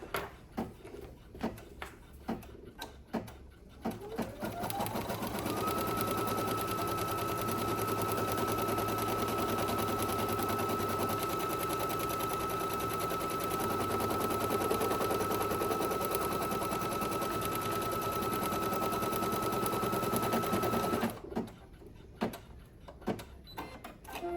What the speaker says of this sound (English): This is a placement stitch, and it's going to be for the first step.